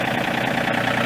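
A John Deere 3025e compact tractor idles with a steady, close mechanical hum while its weighted three-point hitch is raised.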